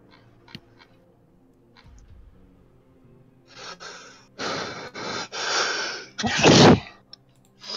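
One person sneezes close to the microphone. Several sharp, breathy inhalations build up in quick succession before a single loud, forceful burst, with faint clicks and quiet room noise earlier.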